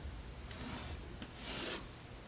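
Pencil or marker strokes rasp across paper while drafting lines for a hoodie sewing pattern, with two soft, separate rubbing passes that are fairly faint and unaccompanied by talk.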